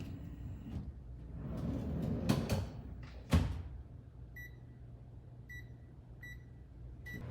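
A microwave oven heats boxed mac and cheese with water: a low steady hum with a few clunks and rattles early, then a run of evenly spaced, clear beeps near the end.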